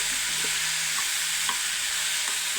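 Tomatoes sautéing in a pan for tomato chutney, a steady close sizzle running throughout with a few soft stirring scrapes, no voices.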